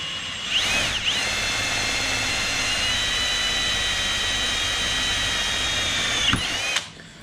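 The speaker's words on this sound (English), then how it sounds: "So when I drill that pilot hole, it'll be ready to go then." A power drill bores a pilot hole in a Honda TRX300 4WD quad chassis, whining at a steady high pitch for several seconds, spinning up at the start and winding down at the end.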